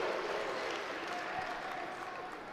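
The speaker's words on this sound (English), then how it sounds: "Gets the crowd fired up." Crowd in a college wrestling arena at a Big Ten dual meet between Illinois and Wisconsin cheers after a takedown, a broad, steady roar of applause and voices that holds fairly loud and fades slightly.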